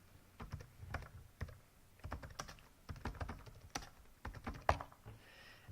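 Keys clatter on a computer keyboard as a command is typed, an uneven run of close, crisp clicks in irregular bursts with short pauses, heard alone without any voices.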